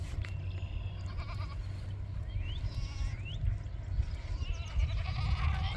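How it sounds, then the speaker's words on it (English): Goats in a paddock bleat several times in short, rising calls over a rumbling outdoor background, growing somewhat louder toward the end. "The goats are settling in well too"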